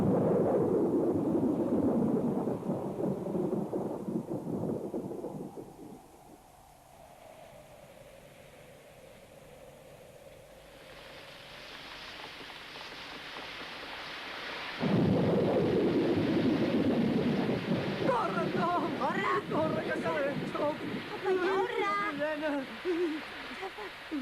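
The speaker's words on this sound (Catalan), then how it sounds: "Quina tempesta." Thunder rolls through a storm with heavy rain hissing steadily, swelling into loud deep rumbles at the start and again later, while voices speak over the downpour.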